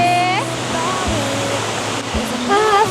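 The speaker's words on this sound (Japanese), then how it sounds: "溶岩流の岩壁を湖水が流れ落ちています。" Yudaki waterfall in Oku-Nikko, lake water pouring down a lava-rock wall, gives a loud, steady broadband roar of rushing water close by, with faint tonal chimes or birdsong at the start and end.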